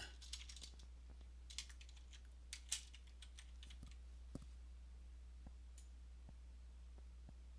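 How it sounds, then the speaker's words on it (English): Computer keyboard keys tapped in short irregular bursts while a file name is entered in circuit design software, faint clicks over a steady low electrical hum. "we'll type in a name."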